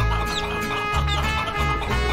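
Chickens clucking in the video game Guacamelee! 2, repeated short clucks under a dense, loud game soundtrack with steady music and effects running throughout.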